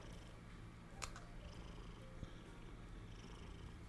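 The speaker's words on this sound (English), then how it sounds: "She's still purring." A cat purrs softly and continuously up close, a low rumbling drone with faint scattered clicks and rustles over it.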